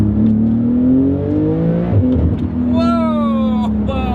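A Porsche 911 GT3 RS with a PDK gearbox accelerates hard through the gears, its engine pitch climbing, dropping at each quick shift and climbing again, heard from inside the cabin while people talk over it.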